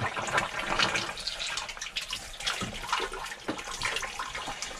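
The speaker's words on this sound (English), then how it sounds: "can you see the water coming out" Steady rushing water pours continuously out of a pipe, a broad noisy splashing flow with no voices, fairly close and even in loudness throughout.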